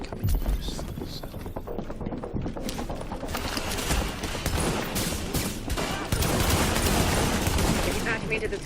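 Continuous assault rifle fire in the video game The Division, a dense rattle of rapid shots sustained throughout, loud and close, with a player's voice talking over parts of it.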